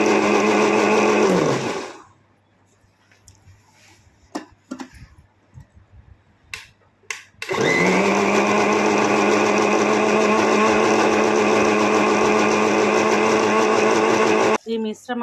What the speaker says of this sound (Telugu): ఈ మిశ్రమాన్ని మొత్తం నేను లిక్విడ్లా అయ్యేలా గ్రైండ్ చేసుకుంటాను.